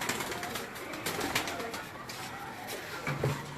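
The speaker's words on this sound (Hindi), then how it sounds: "ये कबूतर जो है टैडी कबूतर है" Teddy breed pigeons coo softly, low throaty calls rising now and then from a faint background hum, fairly quiet and with no clear voices over them.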